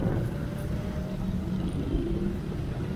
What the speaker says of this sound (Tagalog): Maraming sasakyan ngayon.